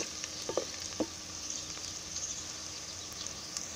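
Beetroot frying in hot oil in a pan for beetroot rice, a continuous close sizzle with a couple of quick stirring scrapes near the start.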